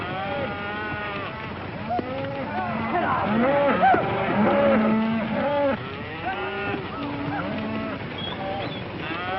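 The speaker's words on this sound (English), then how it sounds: "Mighty fine cattle, boss." Cattle on the open range lowing and mooing repeatedly, several animals overlapping in a loose chorus of long drawn-out calls, fairly close and continuous.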